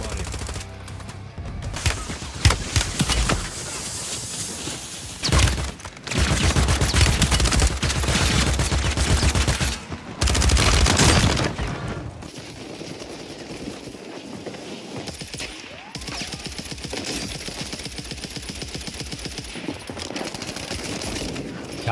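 Gunfire in a Call of Duty: Warzone firefight: loud rapid bursts of automatic shooting come in several volleys with brief gaps, then continue as quieter, scattered shots further off, with players talking now and then.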